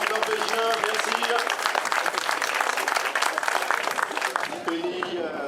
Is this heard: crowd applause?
yes